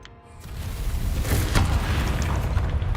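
A Bombarda spell explosion in Hogwarts Legacy during a fight with Ranrock, a loud rumbling blast that swells up after a brief quiet start and keeps roaring to the end.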